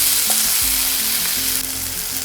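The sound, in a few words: frying chopped tomatoes with ginger paste in a pan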